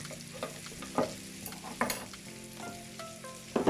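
Sizzling food is stirred in a frying pan for chicken pasta, a soft steady crackle broken by several sharp scraping knocks of the utensil against the pan, close and without talk.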